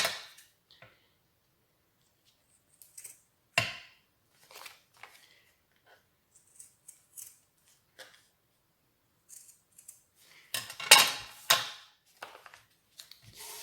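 Scissors cutting paper for small vintage pocket letters: sparse, close snips and crisp rustles spread across a quiet room, with a denser cluster of cuts near the end.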